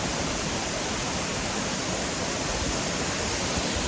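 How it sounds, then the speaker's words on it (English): A jungle waterfall pours in a dense, steady hiss of falling water, loud and unbroken, with no voices over it. "So, beautiful waterfall."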